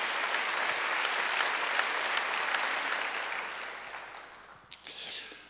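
A church congregation applauds during a Wednesday worship service, a steady, dense wash of many hands clapping that gradually thins and fades, ending with a few scattered claps.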